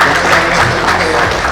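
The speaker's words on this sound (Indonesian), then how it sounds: "Ayo tepuk tangan tuh." Close, loud applause from an audience at a talk on professional librarian development, a dense wash of clapping that continues steadily throughout.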